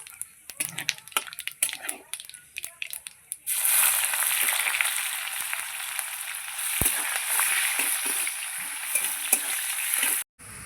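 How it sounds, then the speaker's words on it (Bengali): Onion goes into hot oil tempered with whole cumin and a dried red chilli, bursting into a loud, steady sizzle that follows a few seconds of quiet kitchen clatter. "গোটা জিরে এবারে ফোড়নের মধ্যে পেঁয়াজটা দিয়ে দেবো"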